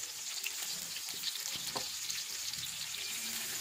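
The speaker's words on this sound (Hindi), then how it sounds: "तीन बड़ी साइज की प्याज स्लाइस करके डाल देंगे ऑयल में" Three large sliced onions sizzle in hot oil with cinnamon pieces, giving a steady, even frying hiss with a few faint clicks and stirring knocks, and no voices over it.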